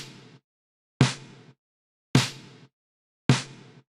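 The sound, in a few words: gated reverb drums through an aggressive EQ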